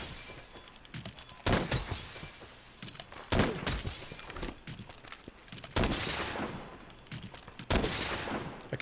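Light bowgun fire in Monster Hunter World, a few loud, crisp blasts spaced a couple of seconds apart, each with a short crackling tail over a low background of game ambience.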